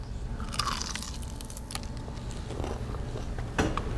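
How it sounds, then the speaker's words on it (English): A crunchy bite of food, a few crisp crackling crunches close to the mic over a steady low background hum, with no talking. "That sound was like Perfect crunch."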